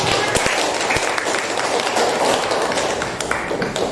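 Classroom applause from students in a school lesson, a dense, steady patter of many hands clapping at once, fairly loud and close, with no clear speech over it.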